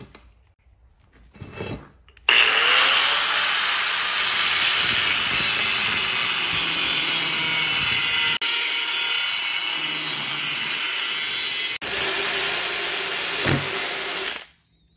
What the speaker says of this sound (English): Cut this off, drill 3 holes.